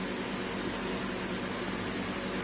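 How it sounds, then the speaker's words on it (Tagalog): An electric fan blows steadily nearby, a loud, even broadband rush of air with no change over the few seconds and no voices. "Meron tayong electric fan dito."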